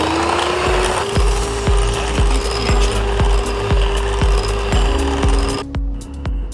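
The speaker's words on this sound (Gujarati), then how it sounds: "બંનેને મિક્સ ન થાય ત્યાં સુધી એને બીટરથી મિક્સ કરતા રહેવું પડશે." An electric beater whips sugar for crisp cardamom (elaichi) cookies: a loud, steady motor whine runs throughout, with regular rhythmic knocks of the beaters against the bowl, and no voices.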